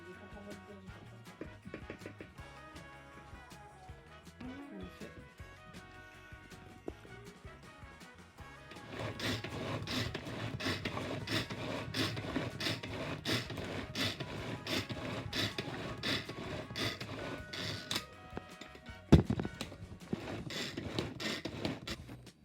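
A stand mixer's paddle beater works through thick Greek yogurt for homemade Nutella frozen yogurt. A quiet start gives way to a steady, close, rasping churn that runs on without a break.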